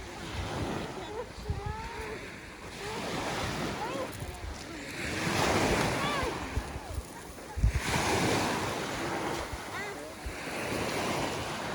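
Small waves wash against the shore of Lake Van, swelling and fading in broad surges under heavy wind rumble on the microphone, with faint voices nearby.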